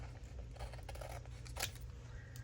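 Scissors trim paper for a journal page, with a few soft close snips and one sharper cut over a quiet low hum.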